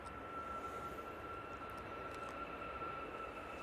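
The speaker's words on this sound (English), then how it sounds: "RyanAir's off to Naples." Ryanair airliner departing Manchester Airport for Naples, a faint distant steady engine roar with a thin constant whine, heard alone at low level.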